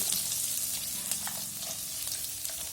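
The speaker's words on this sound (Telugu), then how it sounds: "ఇలా నూనెలో ఫ్రై చేసుకోవాలి." Onions and garlic frying in hot oil in a kadai, a dense, even sizzle heard close up and on its own.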